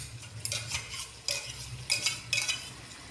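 A spoon stirring tomato paste into a curry in a pan, with several soft scraping and clinking strokes in an uneven rhythm over a faint background hum; no talking.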